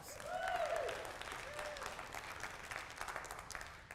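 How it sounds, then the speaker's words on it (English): An audience at a talk breaks into applause, a moderately distant wash of clapping that swells early and holds steady, with a brief vocal whoop or shout rising above it near the start. "Give yourselves a round of applause."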